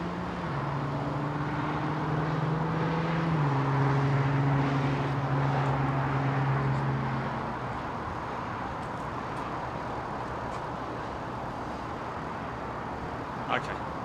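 A Vietnam Airlines jet taxis at London Heathrow with a steady engine hum and rising and falling tones that fade after several seconds. Broad airport noise stays underneath throughout, and there is one brief click near the end.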